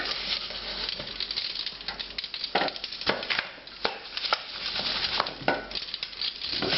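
Lamb searing in a pot over high heat while cooking Georgian kharcho soup, a steady close sizzle and patter with scattered clinks and scrapes of utensils against the pot, no voices.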